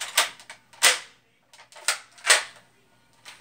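A revolver's cylinder is spun and handled, giving a few sharp metallic clicks and snaps in an uneven rhythm separated by brief silences, close and moderately loud.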